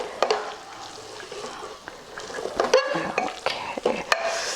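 Aloo matar ingredients frying in a pan for a Punjabi-style potato and pea curry, a steady sizzle broken by scraping stirs and sharp utensil clinks against the pan, close and fairly loud with no talking.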